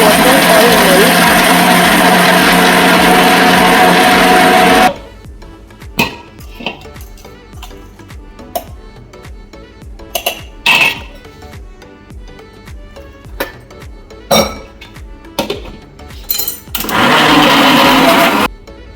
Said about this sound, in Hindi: आप सब इंग्रेडिएंट्स को ग्राइंड कर दीजिए एंड तब तक कीजिए जब तक वो अच्छा फाइन पेस्ट हो जाए